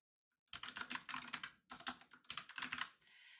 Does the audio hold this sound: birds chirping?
no